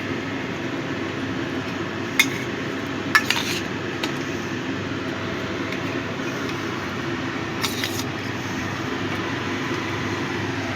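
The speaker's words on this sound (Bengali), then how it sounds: "এবার আমি চিংড়ি মাছগুলো দিয়ে দেব" Prawns slid into a pan of simmering malai curry gravy, a low steady bubbling with a few bright metallic clinks of a spoon against the pan, close by and without any voices.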